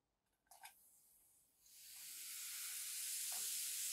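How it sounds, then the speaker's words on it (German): A brief clatter, then a loud hiss swells as steak hits a hot pan and keeps searing in a steady, bright sizzle. "Und so legen wir das jetzt in unsere heißen Pfanne rein."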